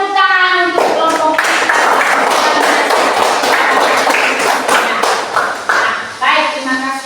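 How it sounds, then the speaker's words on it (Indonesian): A classroom group applauds after a presentation, with dense, steady clapping from many hands lasting several seconds, near and loud, beginning and ending with a spoken voice. "tepuk tangan untuk kelompok"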